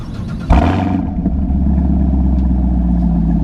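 A 2018 Chevrolet Camaro SS V8 fitted with an MBRP 3-inch quad axle-back exhaust rumbles loud and close, with a sharp rev at the start that settles into a steady, deep idle burble.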